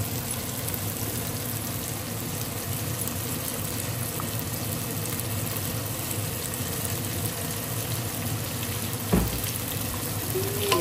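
Biryani masala of coriander, ginger, garlic, cinnamon and cloves frying in a pan, giving a continuous, even sizzle throughout, broken by one brief knock near the end.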